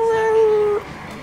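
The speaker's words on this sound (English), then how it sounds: "My dog, Osriel." A dog in the video game Watch Dogs lets out a single short, loud howl that rises and then cuts off, close and in the open.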